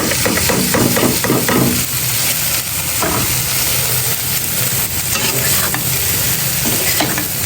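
Okra frying in a pan with green chillies is stirred steadily, a loud continuous sizzle broken by scraping spatula strokes, clustered most densely in the first two seconds and again later.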